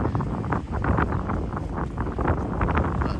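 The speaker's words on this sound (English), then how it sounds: "Here comes the wind again." Wind gusts rumbling steadily across a microphone outdoors in a yard, a loud, continuous broadband roar with no pauses and no one speaking.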